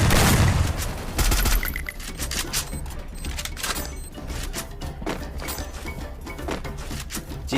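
Rapid gunfire bursts from a squad-battle shooter video game, dense crackling shots and impacts packed close together at steady loudness, with a few heavier booms near the start.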